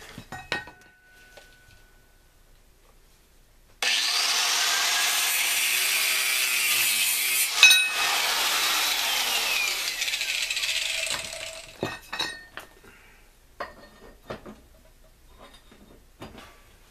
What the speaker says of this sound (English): So I guess we're going to take a grinder to it.